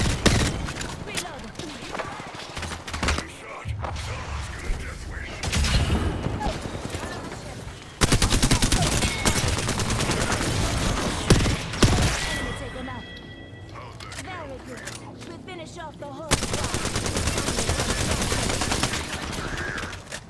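Gunfire in Apex Legends, with rapid automatic bursts, sharp cracks and thumps going on and off over a busy game soundscape, while a player's voice is heard over the shooting.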